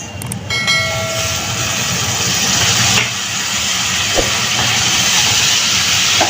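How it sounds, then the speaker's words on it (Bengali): Washed small shrimp tipped into hot oil set off a loud, steady, close sizzle that begins with a clattering drop and keeps hissing without a break to the end. "এখন দিয়ে দিচ্ছি ধুয়ে রাখা মাছ।"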